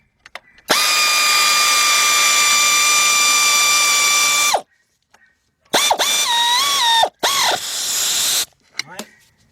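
Power impact or ratchet tool tightening a 14 mm bolt during a timing belt and water pump job on a Kia or Hyundai V6: one long loud whir, then two shorter bursts with pitch dips as the bolt seats.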